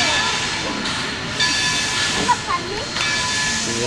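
A steam locomotive, Reading & Northern 2102, hisses steadily as it is brought up to the station in the Scranton Yard at Steamtown. The broad hiss holds throughout with faint clanks and squeaks on top, and there is no talk.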